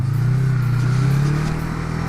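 Close and loud, a motorcycle's engine is throttled up on a roadside for waving children, holding a strong steady drone whose pitch climbs slightly before easing, with no speech.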